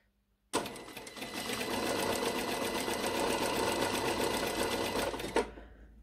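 A sewing machine runs a long straight stitch 7 mm from the fabric edge, a fast, steady mechanical whir close by for about five seconds before stopping abruptly.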